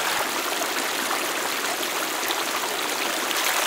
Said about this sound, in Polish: Na niewielkim 400-metrowym odcinku Tamwi znajdują się aż 24 progi.